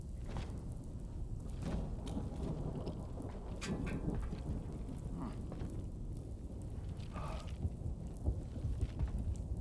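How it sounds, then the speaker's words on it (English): Steady rain and rolling thunder fill an indoor scene in the video game Death Stranding 2, a dense continuous wash with a few louder rumbles and crackles, no voices. "Why is it raining in here?"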